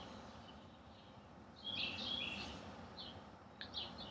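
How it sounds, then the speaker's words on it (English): Faint birds chirp and tweet in the distance, a short burst of calls rising over a quiet outdoor hush, then a few scattered notes. "You're listening to the birds."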